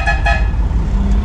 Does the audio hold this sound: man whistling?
no